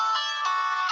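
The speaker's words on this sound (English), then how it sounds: "That's my phone." A mobile phone ringtone plays close and loud: a bright, steady electronic ring that pulses in short repeated swells, with no talk over it.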